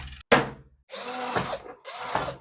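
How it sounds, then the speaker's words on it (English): A power drill bores a hole for an M3 screw in a VR gunstock build, heard as a sharp click and then two close, loud bursts of whirring drilling separated by a brief pause. "Drill a hole, M3 on the other side."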